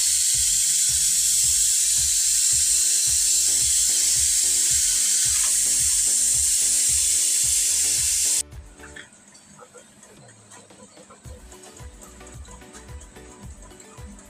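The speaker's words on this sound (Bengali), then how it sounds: "এবার হয়ে গেছে, জল দিলাম" Water poured into a pot of mutton curry sets off a loud, steady sizzling hiss with faint knocks for about eight seconds, then cuts to a much quieter simmer with light clatter.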